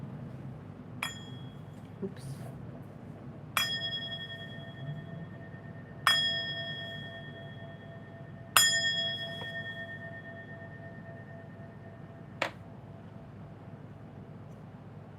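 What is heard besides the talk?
ringing a bell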